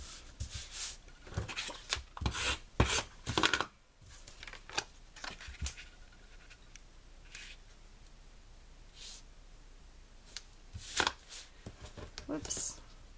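Cut paper pieces are pressed and smoothed onto scrapbook background paper, giving irregular crinkling, rubbing and tapping bursts close by, with some quiet stretches and talk mixed in.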